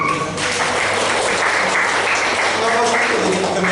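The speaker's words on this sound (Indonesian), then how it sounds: "Tepuk tangan untuk wanita-wanita yang hebat." Applause fills the room at a school parenting seminar, a dense, loud patter of many hands clapping continuously, with some voices audible underneath.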